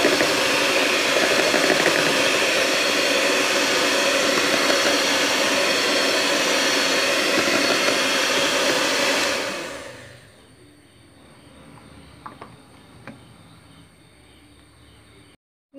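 An electric beater whirs loudly and steadily through carrot date cake batter with vegetable oil for about ten seconds, then switches off, leaving faint clinks and kitchen quiet.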